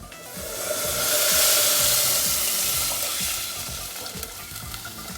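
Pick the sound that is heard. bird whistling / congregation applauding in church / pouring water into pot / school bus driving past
pouring water into pot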